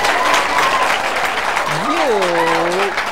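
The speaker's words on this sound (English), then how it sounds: "please welcome with a huge round of applause" Steady, loud applause from an audience fills the whole stretch, with a voice rising over it near the end.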